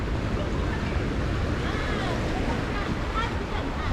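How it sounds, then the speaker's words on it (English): Ocean waves washing against rocks along Cape Town's Sea Point seaside promenade, a steady broadband roar of surf mixed with wind buffeting the microphone, continuous and fairly loud throughout with no clear speech. "these are the times that you see there is a big waves"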